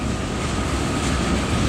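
A long Norfolk Southern freight train rolls past at a rural crossing in Rural Retreat, Virginia, its loud, steady broadband rumble and wheel noise holding constant and close throughout.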